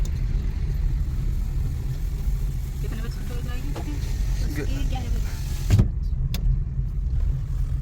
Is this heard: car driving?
yes